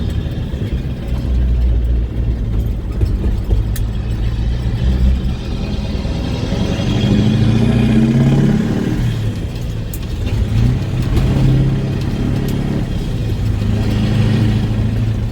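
A CAT-powered truck with a two-speed rear axle runs in high gear through a turn, its diesel engine producing a loud, steady low rumble that swells as it accelerates, with no talking.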